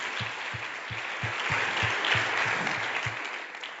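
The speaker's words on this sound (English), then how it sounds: "Let's give them another round of applause." Audience applause at a school choice event, dense crowd clapping with a steady rhythmic beat of regular low thumps underneath, even and continuous.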